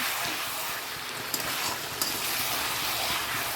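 Potatoes sizzle in a hot frying pan (kadai) as a little water is added, giving a steady, close hiss with a couple of faint pops and no talking.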